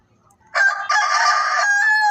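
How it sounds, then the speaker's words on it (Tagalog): A Rhode Island Red rooster crows once, close and loud, a sustained harmonic call that starts after a short quiet moment and holds to the end. "Pure Rhode Island Red. Yan. Yan ang amahan."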